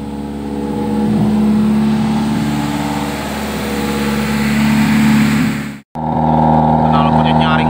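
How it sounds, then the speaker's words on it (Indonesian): A Suzuki Ertiga's engine is held at raised revs with a loud exhaust, a steady, harsh, close drone that cuts out abruptly for a moment near the end and then resumes, while someone talks over it. "Knalpotnya nyaring bener."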